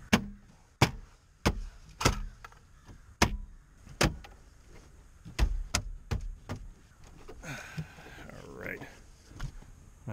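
Plastic dashboard trim in a Chevy Impala being pressed and popped into place, with a series of sharp snapping clicks and knocks at irregular intervals, close and loud, with brief rustling between.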